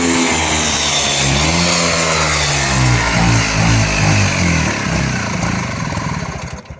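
A Bajaj RE two-stroke engine on a cold start runs loud and close with a rough, buzzing idle and uneven revving, fading slightly at the end.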